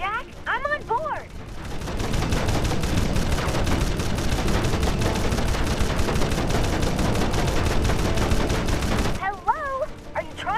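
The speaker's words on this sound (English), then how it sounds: "Stop shooting, Jack!" Sustained rapid gunfire in the game Jak and Daxter blazes for several seconds as a continuous loud barrage, with brief character speech before and after it.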